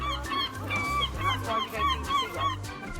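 Seagulls stealing food let out a quick run of honking calls, loud and close, over a low pulsing background.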